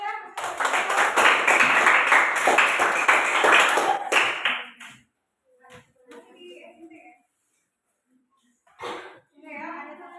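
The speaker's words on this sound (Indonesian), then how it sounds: "Tepuk tangan untuk Wadisya" A junior high school class breaks into dense, lively applause for a classmate, lasting about four seconds before it stops abruptly, followed by a few faint taps and quiet talk.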